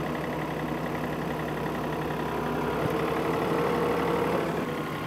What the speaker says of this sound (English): When I'm that steep, the loader won't go up.